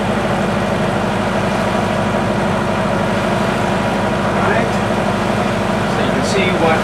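A classic powerboat's inboard engine runs steadily at 1500 RPM, heard from inside a cabin lined with sound insulation: a constant low droning hum with no change in pitch throughout.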